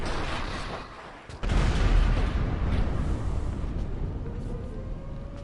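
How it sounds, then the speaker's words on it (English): A helicopter blows up in GTA 5, starting with a sudden loud boom and then a long rumbling roar that stays dense and fades only slightly. "then we go on to our third scene, which is the helicopter explosion"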